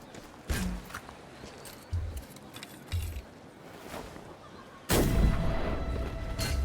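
Long gun shots ring out in the game Flintlock, a handful of sharp booming reports spaced over several seconds, with a heavier sustained blast near the end.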